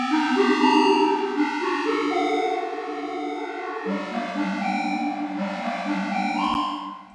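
A sustained synth pad made with the Deducktion synth in Mixcraft 8, with a gritty, distorted edge, its layered chords shifting in pitch and holding steady before fading at the end.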